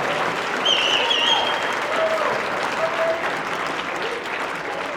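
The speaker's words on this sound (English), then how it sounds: "Now we can give them a round of applause." Audience applause at a student awards ceremony, steady sustained clapping from a large crowd that fills the whole stretch at an even level with only slight swells.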